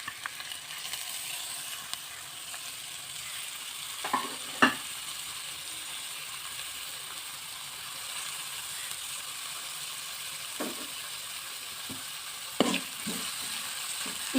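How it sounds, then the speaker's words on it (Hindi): Chopped onions frying in oil for crispy patties, a soft continuous sizzle with occasional clicks and scrapes of stirring spaced through the quiet, close sound, and no one speaking. "अब ये थोड़ा नीम गर्म हो जाए तो इसके अंदर आप प्याज ऐड कर दीजिए, चॉप की हुई।"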